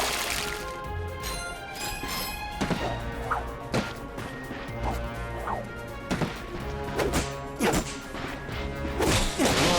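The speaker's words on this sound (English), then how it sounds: "Look at him smashing crates." Crates smashing in the Ratchet & Clank PS4 game: a rapid run of loud crashing, whacking impacts and whooshes, several sharp breaks clustered near the start and end over a steady game soundscape.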